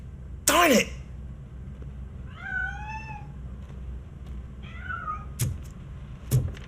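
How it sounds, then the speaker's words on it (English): A cat in the game RoboCop: Rogue City meows twice, with clear rising-and-falling cries spaced a couple of seconds apart, alongside a sharp burst at the start and two brief clicks later. "That cat must be hiding inside."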